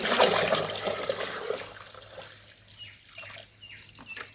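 Water from a fish pond being poured into a farm mixture of cow dung and rice water, a loud splashing gush at first that thins to a faint trickle with light drips near the end.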